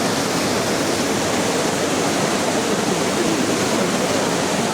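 Ditumabo Falls in Baler, Aurora, a steady, dense roar of falling water that fills the clip evenly and loudly from start to finish.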